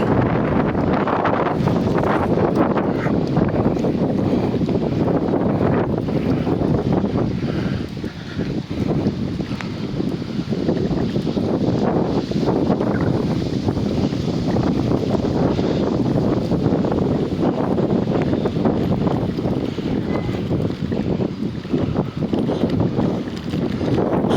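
Strong, steady wind roars and buffets the microphone as waves pound a pier at Şarköy, a continuous rushing wash of water beneath it, loud and unbroken throughout.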